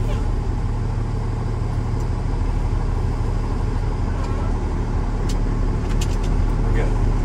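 A Class A truck creeps forward at about 5 mph during a pre-trip brake test, its engine a steady, loud low rumble with road and vehicle noise running throughout; a voice speaks over it.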